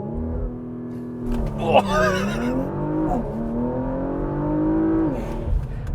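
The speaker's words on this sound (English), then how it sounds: "All right, let's get you to do some launch control" A 2020 Porsche Macan Turbo launching with launch control, the engine note climbing and shifting through gears inside the cabin while people talk and exclaim over it.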